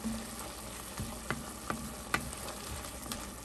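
Onions sautéing in a pan on the way to a chicken thigh and Swiss chard dish, a steady close sizzle and fry with a few light stirring taps and scrapes, no voices.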